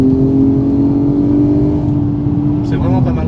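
Nissan Skyline R32 engine revving hard during a launch on a road, a loud steady droning note that shifts near the end as it accelerates, with a voice speaking over it.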